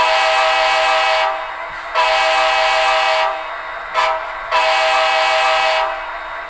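Directional airhorn on model railroad locomotive 6906, a loud multi-tone horn sounding in several long and short blasts over a steady motor hum, with no speech.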